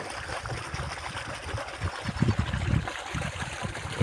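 Water gushes steadily from a running irrigation pump motor on a farm field, a continuous broadband splashing flow with some low rumbling surges near the end, close and fairly loud with no talk.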